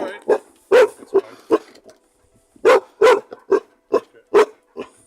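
A dog barks in a loud, irregular series of sharp woofs and yips, close by, with some voices mixed among the barks.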